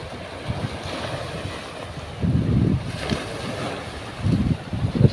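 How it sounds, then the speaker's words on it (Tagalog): Big sea waves surge and crash in repeated rolling swells near a small boat, with wind buffeting the microphone and no voices. "Malaki ng alon pa talaga mga bro."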